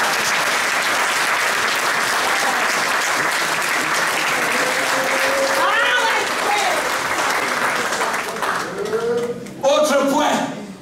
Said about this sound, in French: Donnez un tonnerre d'applaudissement pour le Seigneur.